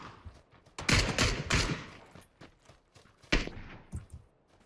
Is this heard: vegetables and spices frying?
no